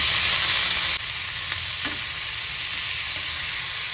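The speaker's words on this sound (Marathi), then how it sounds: "तेल टाकून थोडंसं तेल टाकायचं आणि चांगलं भाजून घ्यायचं मस्त" Tomatoes and spices roast in oil in a pan, giving a steady loud sizzle and crackle with a few soft stirring scrapes, close by and uninterrupted.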